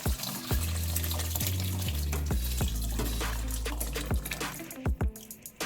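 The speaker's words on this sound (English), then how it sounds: "now I'm going to pour it over into my large pot" Liquid roux pours and splashes steadily into a large pot for gumbo, with wet glugging and a few sharp clinks of a utensil against metal.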